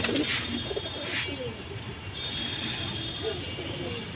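Pairs of fancy pigeons (lal patti, military silver, bagha lines) give soft, low cooing phrases at moderate distance, mixed with a few light chirps over a steady ambient hiss.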